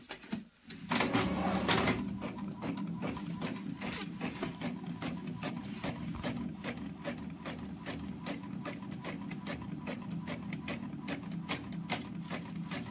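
A printer prints marriage cards, its rapid regular clicking and whirring repeating steadily and close by after a short pause, with no talk over it.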